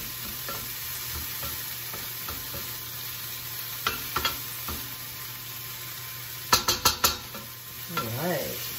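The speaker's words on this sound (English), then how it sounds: "sauteing your vegetables this way before you add it to the meatloaf" Vegetables for meatloaf sautéing in a pan, a soft steady sizzle with scattered scrapes and taps of a spoon, plus a quick cluster of sharper clicks near the end, heard up close without talk.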